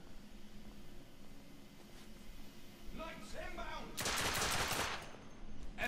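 Gunfire in The Order: 1886 on a PS4 at hard difficulty, a faint scene that swells into a dense, loud burst of rapid automatic shots lasting about a second, then a shorter burst, with a voice speaking shortly before.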